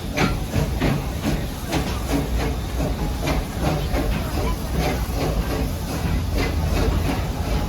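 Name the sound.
Busch Gardens Serengeti Railway train running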